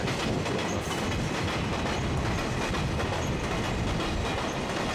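A freight train loaded only with 12-foot containers rolls through a platform track at Nagoya Station, a loud continuous rumble with rhythmic wheel clatter filling the whole stretch.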